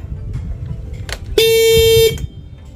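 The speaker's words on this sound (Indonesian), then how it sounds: "klaksonnya akan berbunyi panjang teman-teman" A motorcycle's anti-theft alarm horn blares one long, loud, steady tone of under a second, preceded by a brief chirp and quiet background rumble.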